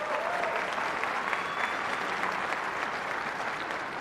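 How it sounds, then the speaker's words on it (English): A crowd at a community college graduation ceremony applauds in a steady, sustained wash of clapping that stays at even loudness throughout. "Does that deserve a round of applause?"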